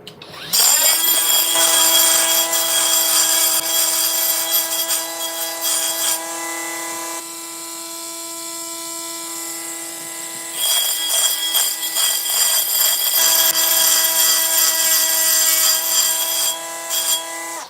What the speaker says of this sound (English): Now, I'm going to grind it off.